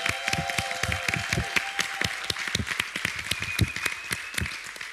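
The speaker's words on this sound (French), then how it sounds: "Est-ce qu'on peut applaudir le MAE du Bon Berger?" A church congregation applauds at a Sunday service, a steady burst of many hands clapping with sharp individual claps standing out near the microphone, while a sustained organ or keyboard tone hums underneath.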